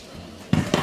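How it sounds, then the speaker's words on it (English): Carrots dropped into a crock pot: two quick clattering knocks against the pot, close and fairly loud, after a quiet kitchen background. "we are going to take our carrots and put those in the crock pot as well"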